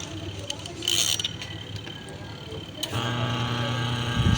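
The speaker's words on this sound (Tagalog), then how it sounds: "Umandar na po ang ating motor ng washing machine." A washing machine motor starts after its timer is turned, a low steady hum that settles into a constant drone following a few faint ticks and a brief clatter.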